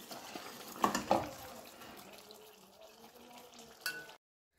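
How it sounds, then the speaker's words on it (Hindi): Masala being stirred and fried for a mutton and potato curry, with a couple of louder scraping stirs early on and a steady soft sizzle throughout, ending in a final clatter before cutting off. "अब हम अच्छे से ज़रा भुनाई कर लेंगे ताकि हमारा जो मसाला है अच्छे से भुन जाए"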